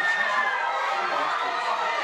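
Cruzeiro football fans gathered in Barro Preto to watch a derby on TV, a dense crowd roar of shouting and cheering that stays loud and unbroken throughout.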